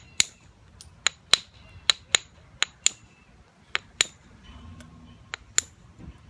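Sharp, isolated clicks and taps of stone striking stone while bevelling the edge of a flint biface, about a dozen crisp knapping strikes in an irregular rhythm, close and clear against a quiet background with no talk.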